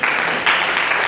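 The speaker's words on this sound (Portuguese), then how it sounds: "Palmas para esse menino." Brief, loud clapping from an audience at a lecture in Itápolis applauds a boy, a dense burst of hands lasting about a second.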